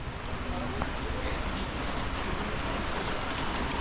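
Steady rain falls outdoors on a walk in a high-altitude region of India, a dense even hiss with light patter throughout, fairly loud and close.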